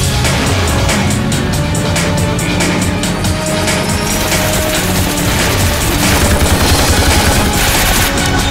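Rapid bursts of gunfire are fired from a moving car in the PlayStation 2 game 007 Nightfire. Loud repeated shots rattle over a constant engine roar for several seconds with no pause.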